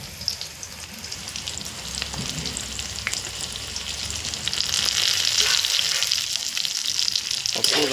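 Chopped tomato hits a pan of frying soybean chunks, and a close, hissing sizzle builds and grows louder and denser partway through. A few stirring scrapes sound over it, with no voices.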